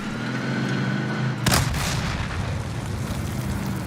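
A loud explosive charge detonates in a Filipino online shooter match, a sharp booming blast with a rumbling tail cutting through steady game background noise.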